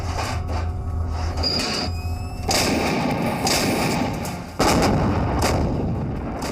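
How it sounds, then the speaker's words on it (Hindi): Artillery shelling during the Kargil war, a series of sharp heavy blasts and cracks arriving in bursts, loud and harsh with a rough noisy tail between impacts. "ये वो जगह है जहां दोनों पक्षों के बीच लगातार बिना रुके कई दिनों से गोलाबारी हो रही है"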